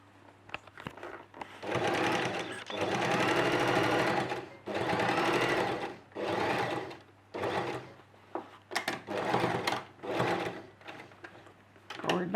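Short bursts of a sewing machine straight-stitching a dress seam, running forward and backward in several separate runs with pauses between them.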